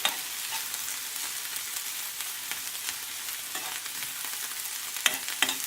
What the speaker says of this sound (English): Start mixing them around the pan.